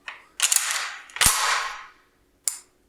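Crisp mechanical clacks and rattling metal clicks come from the action of a Mossberg 940 Pro-Tactical semi-automatic shotgun in two close bursts, followed by a single sharp snap of the trigger, with no talking.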